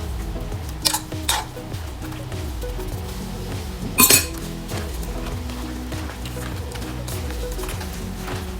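Spoon clinking and scraping against a bowl while kimchi ingredients are stirred together, with sharp clinks standing out over a steady background of music-like tones and some voice.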